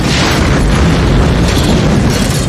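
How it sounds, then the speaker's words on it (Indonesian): A loud, sustained rumbling blast of a car exploding, with heavy low-end roar and crackling debris, continuous throughout without pause. "mobil itu meledak hebat"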